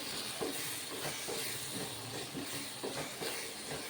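Tomato chutney simmers in a pan with separating oil, giving off a steady hiss and soft, irregular bubbling pops that stay close and fairly quiet throughout.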